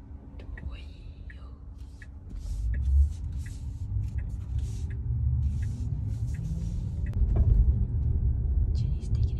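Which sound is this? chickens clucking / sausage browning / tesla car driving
tesla car driving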